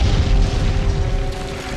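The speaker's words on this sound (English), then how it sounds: "a huge fire explosion rocks the neighborhood" A huge fire explosion in a crowded, muddy neighborhood during a fire disaster, heard as a sustained, heavy low rumbling boom that fills the whole stretch without letting up.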